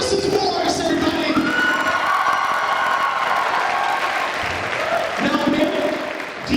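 Audience at a school graduation assembly applauds with cheers, whoops and children shouting, a loud continuous wash of clapping and voices filling the room throughout.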